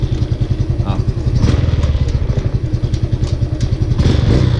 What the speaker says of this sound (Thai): ติดเครื่องปกติเลยครับผม